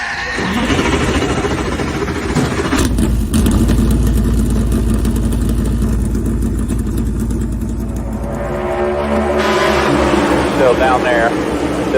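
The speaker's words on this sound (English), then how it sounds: "gentlemen, start your engine!" A car engine starts with a burst and then runs with a loud, steady rumble close by. It revs up briefly near the end while a voice talks over it.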